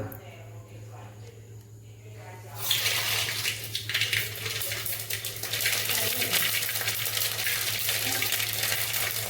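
Mustard seeds hit hot oil on a high flame while cooking a mango curry, bursting into a loud, dense crackling sizzle that starts abruptly and keeps going steadily after a quieter, humming lead-in.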